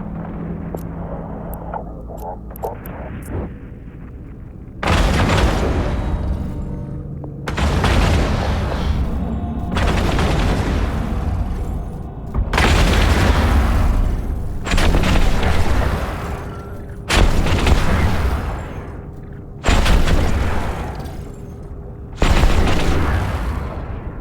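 Spaceship guns in EVE Online fire at an enemy ship in about eight heavy, booming volleys. They land at a steady rhythm roughly every two and a half seconds, loud and close, with a softer rumble before the first shot and no voices.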